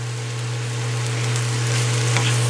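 Pork stir fry with bean sprouts sizzles and fries steadily in a hot pan, a loud continuous crackle that swells slightly, with no talking.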